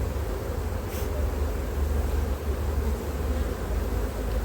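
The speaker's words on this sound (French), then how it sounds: "là pour pas écraser les abeilles" Honeybees swarm around a hive being moved, making a dense, steady buzz close by that fills the whole stretch without a break.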